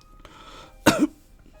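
A single short, harsh cough from a character in the video game Steins Gate Elite, a sharp close burst in an otherwise quiet moment.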